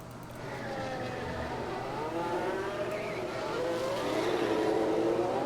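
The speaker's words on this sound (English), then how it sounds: "Okay, cars are going out." Engines of F1 cars leaving the pits in the F1 Manager 2022 racing game, a steady layered whine of several cars that rises in pitch and swells slightly louder toward the end, with faint talk underneath.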